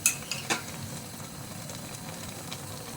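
Pickle masala for an olive pickle being stirred in a pan: soft scraping and clinks near the start, then a steady low sizzle and stirring texture, quiet and close.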